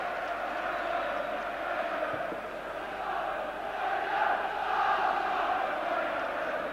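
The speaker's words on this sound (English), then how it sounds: "the home crowd certainly behind their team, the Spurs fans behind theirs" A football stadium crowd at Sheffield Wednesday versus Tottenham Hotspur in 1994 roars in a sustained wash of chanting and cheering, swelling slightly toward the end, heard from a distance.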